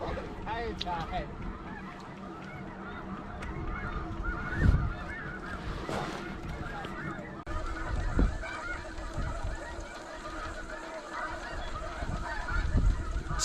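Geese honking loudly and repeatedly at close range during a blustery snowstorm hunt, with wind noise beneath and a few sharp bursts in between.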